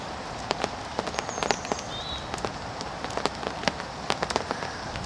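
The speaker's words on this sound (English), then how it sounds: "Yeah, it's raining, as you can see." Rain falling at a carp-fishing swim with rods and a bivvy set up: a steady soft hiss with scattered sharp drips and taps landing close by, irregular and fairly quiet, with a faint bird chirp in the background.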